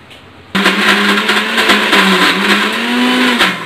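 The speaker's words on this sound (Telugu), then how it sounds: "మిక్సీ గిన్నెలో వేసుకొని కొంచెం వాటర్ వేసుకొని మిక్సీ పట్టుకోవడం" A mixer grinder runs loudly, blending toor dal chutney with water: an abrupt start into a steady high motor whine with a strong hum, sustained for about three seconds, alone with no talk.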